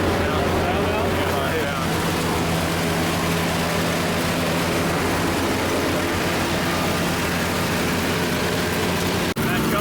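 Close, loud and steady idle of a 1976 Ford F-600 dump truck engine fitted with a new Holley carburetor, a continuous low rumble running the whole time, with a brief click near the end.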